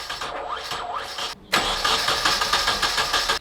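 Nissan 240SX engine after an ignition timing adjustment: starter cranking in quick pulses, a short gap, then the engine catches and runs with a rhythmic, loping idle, loud and close.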